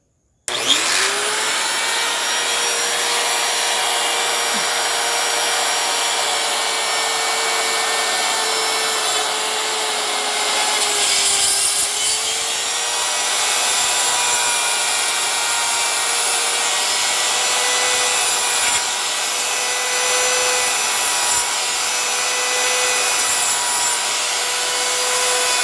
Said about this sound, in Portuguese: Uma fresa de corte reta, não rolamentada, tá?